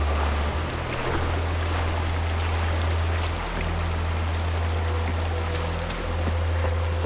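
Lake and stream water in Far Cry 4 keeps up a steady rushing wash, broad and continuous with a low hum beneath, and no talk over it.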